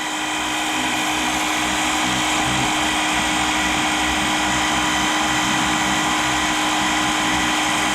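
A Dewalt 20V cordless power washer sprays grease off a surface with a loud, constant high-pitched motor whine and rushing hiss that continues without a break.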